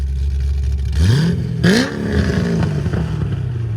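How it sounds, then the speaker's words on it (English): A cammed Chevrolet Corvette Z06 with a 7.0L V8, headers and exhaust valves open, idling with a deep lope and then blipping the throttle twice in quick rising revs that fall back, loud and close. "Give it gas. So that's valves open, guys."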